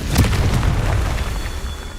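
A Confringo fire spell bursts in the Hogwarts Legacy video game, a loud, deep booming explosion that swells in the first half-second and rumbles on for about two seconds at close range.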